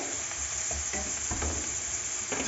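Grated radish sizzles steadily in a hot pan, with a close, continuous frying crackle and occasional scraping stirs.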